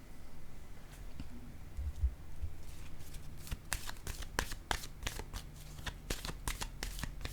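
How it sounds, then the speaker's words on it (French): Playing cards shuffled and laid down during a card reading, a run of crisp riffling bursts and slaps that grows busier and louder toward the end, close and clear with no talking. "Je vais déposer une carte sur le papillon."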